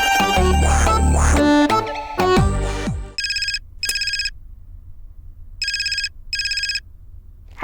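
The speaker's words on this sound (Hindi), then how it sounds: "समीर फोन लगाता है।" An outgoing telephone call gives a repeated ringback tone, four evenly spaced paired bursts heard clearly and alone after a brief stretch of louder background music.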